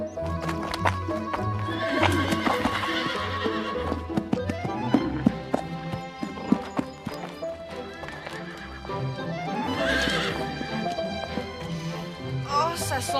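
Horses neigh and whinny loudly in a stable over steady hoof clops and shuffling, with voices talking in the background.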